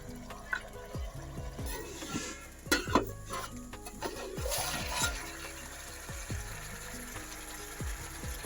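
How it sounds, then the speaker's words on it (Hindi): A spoon scrapes and stirs thick chicken masala in a pot, making soft repeated scraping strokes with faint sizzling underneath at low volume and no talking. "इसे हम थोड़ी देर पे चलाते रहेंगे ताकि ये नीचे से जले ना"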